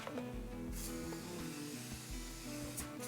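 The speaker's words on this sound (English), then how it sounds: "take spray oil, and all we're going to do is spray our pot round" Spray oil misted around the inside of a pot in two short hissing bursts, close and quiet over a steady low hum.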